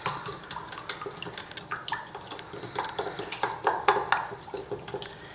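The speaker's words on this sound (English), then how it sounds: "So I'm going to put most of the yolk in. We're going to mix that up." Egg yolk being stirred into batter in a bowl with a spoon: quick rhythmic clinks and scrapes of utensil against the bowl, a fairly close and busy run of taps over a soft background, no talking.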